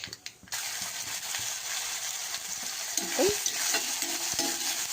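Loud, continuous sizzling as onion, green chili and curry leaves fry in hot oil, with occasional scraping and clinking of a spoon against the pan.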